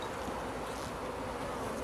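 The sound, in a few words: honey bees buzzing around a hive while making a swarm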